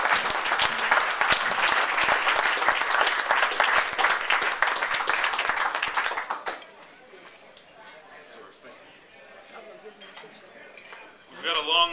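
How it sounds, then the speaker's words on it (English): Strong round of applause at a golf classic dinner presentation for a sponsor, loud dense clapping for about six seconds, then a sudden drop to quieter room noise with clinking dishes and murmuring voices. "If we can give them a round of applause."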